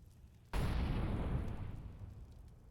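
A grenade blows up in Counter-Strike on the Mirage map during a competitive esports match, one sudden loud boom that rumbles and slowly fades over the next couple of seconds.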